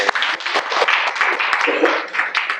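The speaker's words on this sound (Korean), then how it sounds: "박수 한번 쳐주세요" A small audience at a night meditation talk claps together, a lively patter of hands rising and falling over about two seconds, with a few voices mixed in.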